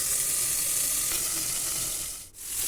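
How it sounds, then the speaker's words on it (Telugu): Chicken pieces fry in a pan over a medium flame, giving a steady, close, bright sizzle with a brief dip near the end as the pieces are turned. "రెండు వైపులా చక్కగా టర్న్ చేసుకుంటూ చికెన్ ఫ్రై చేసుకోవాలండి."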